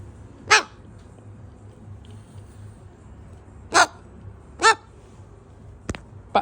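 A pet parrot imitates a dog barking, giving short sharp bark-like calls, four or five spaced bursts, close and loud over a quiet room hum.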